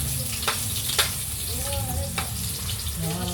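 Chopped ginger dropped into a hot pan for tinola, giving a steady close sizzle and crackle with a few sharp spatters and faint scraping, no talking over it.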